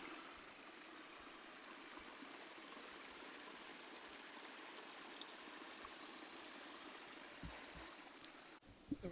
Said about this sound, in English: And here's a second little creek.